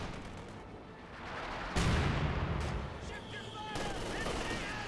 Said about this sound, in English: Grenadiers firing away.